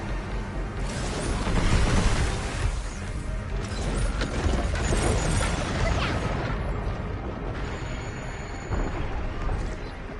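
Heavy mechanical clanking and grinding from an artillery machine in the video game Pragmata, dense and loud throughout with crashing impacts layered over the machinery.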